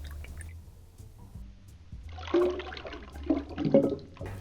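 Amaretto is poured into a cocktail shaker full of ice, a liquid splash and gurgle that swells midway and trails off, close and moderately loud over a low background hum, with no talking.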